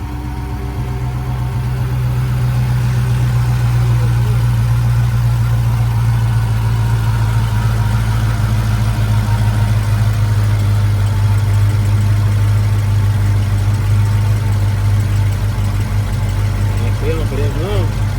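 A stolen Dodge Challenger Hellcat Redeye with a supercharger and a failing fuel pump idles with a loud, steady low rumble that struggles to stay running, with people talking over it.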